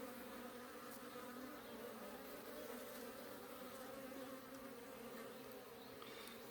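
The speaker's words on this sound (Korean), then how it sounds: "여기 벌이 뭉쳐 있으니까" Native Korean honeybees cluster thickly at a hive, making a dense, continuous buzzing hum that stays even and close throughout, with no voices.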